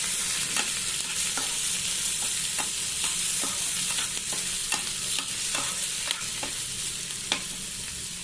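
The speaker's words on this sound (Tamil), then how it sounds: "ஆயில் காஞ்சதும் நம்ம கட் பண்ணி வச்சுருந்த சுவரொட்டி அதில் போட்டு நல்லா வதக்கிக்கலாம்." Cut goat spleen sautés in hot oil in a pan, giving a steady loud sizzle broken by regular scraping stirs, with no voices.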